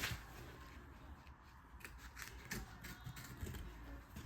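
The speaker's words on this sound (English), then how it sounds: "Lift it with a piece of your finger and then cut that out." Scissors snip out a fabric applique patch in a run of quiet, close, crisp cuts with light rubbing of cloth between them.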